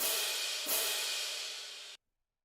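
A crash cymbal in a beat, with one bright sustained wash of hiss that decays slowly and then cuts off abruptly, fairly quiet and alone.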